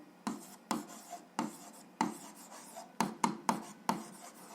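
A pen scratches across paper during an algebra exercise, in repeated short strokes with a brief pause between each, close up and fairly quiet with no talking.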